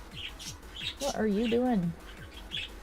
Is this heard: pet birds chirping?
yes